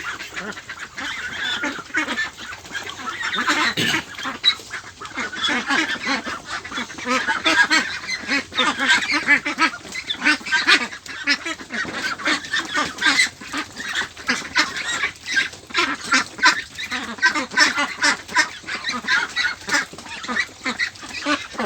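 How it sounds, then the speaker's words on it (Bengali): A flock of Peking ducks crowds together drinking medicated water, giving dense, continuous honking and quacking calls at close range with no speech. "সব হাঁসগুলো চলে আসতেছে আস্তে আস্তে এই হাঁসগুলো পানি খাচ্ছে"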